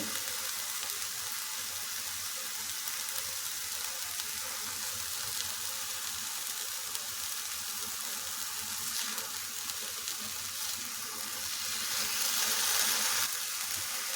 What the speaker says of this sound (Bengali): আপেল ভাজতে হবে মাঝে মাঝে এগুলো নেড়ে দিতে হবে